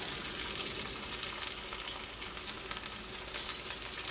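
Steady crackling sizzle of crushed garlic and ginger frying in hot oil, close and continuous with small pops, no voices.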